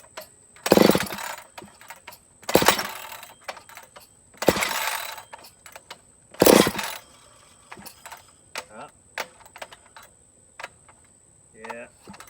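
McCulloch Pro Mac 850 chainsaw, just rebuilt, is pull-started: four loud rasping pull-cord bursts at roughly two-second intervals, followed by scattered clicks and knocks without the engine catching.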